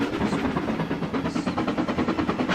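Steam locomotive in the Trainz 19 game, the old-shape Henry engine, chuffing rapidly with its driving wheels slipping on the rails, a steady loud stream of quick rhythmic exhaust beats with metallic rumble and no talk.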